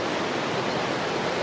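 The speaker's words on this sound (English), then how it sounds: "this looks like a nice little pool here, little waterfall." A small waterfall spills into a river pool, producing an even, continuous roar of rushing water at moderate volume with no other sounds.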